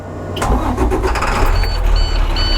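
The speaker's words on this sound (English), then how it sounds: "So now I'm going to do a safe start of the bus." A school bus engine cranks and catches, then settles into a steady, loud diesel rumble up close.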